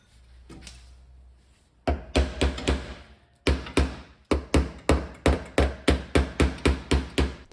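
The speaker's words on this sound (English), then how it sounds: "giving it small little taps with the hammer and bring the dent out very slowly" A hammer taps out a car body dent in quick, regular light blows, after a brief pause, a steady rhythm of sharp close-up knocks.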